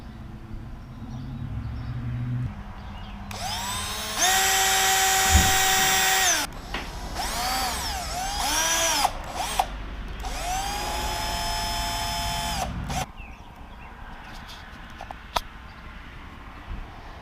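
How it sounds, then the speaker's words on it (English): A cordless driver with a Phillips bit turns small screws into a Ducati Panigale throttle assembly, delivering several short, high-pitched whirring bursts of a few seconds each, separated by pauses, close to the microphone. "Just trying to be careful not to strip out the heads on these screws more than I already have."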